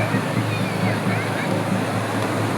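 Sea waves washing in at a crowded beach, a steady close wash of surf with wind noise on the microphone throughout this short moment.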